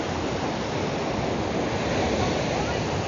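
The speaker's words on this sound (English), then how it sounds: "waves are crashing in at the moment." Ocean waves crashing in at a beach along the Marbella promenade at night, a steady, dense roar of surf with no distinct breaks, fairly close and continuous.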